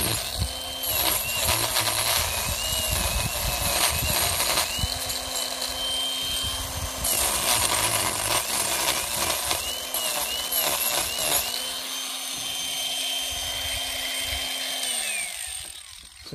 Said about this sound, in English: Maybe we'll get the big grinder again, huh?